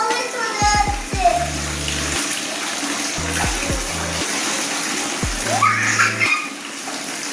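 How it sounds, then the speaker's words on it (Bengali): A young boy splashes and slaps water during a bath, with running tap water and intermittent hard splashes close by, under a continuous wash of water and occasional voices. "কি আনন্দ জল ঘাটা"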